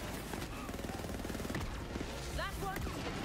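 Rapid gunfire from a weapon in the looter-shooter Borderlands 3, a dense run of shots under busy game noise, with voices talking over the action.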